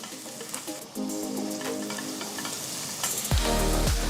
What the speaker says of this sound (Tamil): மூணு மீடியம் சைஸ் வெங்காயம் பொடியை நறுக்குனது சேர்த்து வதக்குங்க